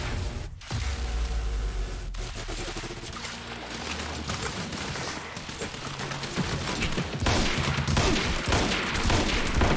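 Sustained gunfire from a firefight in Quantum Break, with rapid overlapping shots and bursts running loud and dense through the whole stretch, growing heavier near the end.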